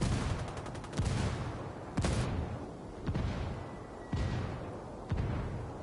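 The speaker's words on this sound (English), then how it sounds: "Oh, it's a mortar." Mortar fire in a video game thumps out in a regular series of about six heavy booming blasts, roughly one per second, each decaying under a dense rumbling battlefield background.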